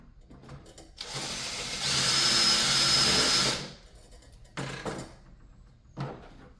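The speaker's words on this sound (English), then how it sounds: "I need to drill that." A power drill whirs in short bursts while drilling discarded fireworks to build a fishing rod holder, one long loud run in the middle flanked by brief quieter spins, close by.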